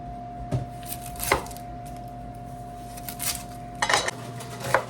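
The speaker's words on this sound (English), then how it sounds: "I'm gonna go ahead and chop up our vegetables" A knife chops vegetables on a cutting board for a turkey and rice soup in a few sharp, spaced knocks, close and distinct over a steady low hum in a quiet kitchen.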